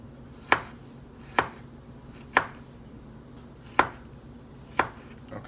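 Fresh strawberries chopped with a knife on a board, five separate crisp chops spaced about a second apart, each one close and clear over a quiet room.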